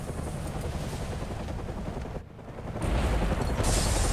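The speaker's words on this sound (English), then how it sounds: "guess the fireworks are going off early" Fireworks going off in a Batman video game: a loud, dense stream of rapid crackling bursts and booms, briefly dipping into a lull before swelling louder again.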